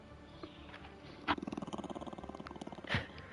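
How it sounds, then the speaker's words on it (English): A pet dog growls low and close in a quiet room, a rumbling pulsed growl lasting about two seconds with a couple of short huffs around it. "I wonder if you can hear my dog growling"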